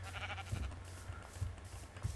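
Sheep bleating in the video game Minecraft, a few short low bleats repeating at steady intervals over a faint ambient game background, no talking.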